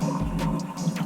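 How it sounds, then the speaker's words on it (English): Soaking water drains away beneath a hand-knit shawl, a brief, steady gurgling trickle of liquid running off nearby, short and continuous with no talking. "I'm going to go ahead and drain my water."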